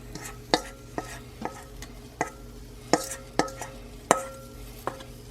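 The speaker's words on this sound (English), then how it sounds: "I'm gonna give this one a quick stir" Kimchi pancake batter being stirred in a bowl, with a series of sharp clinks and scrapes spaced out at irregular intervals over a steady background hum, close and fairly quiet.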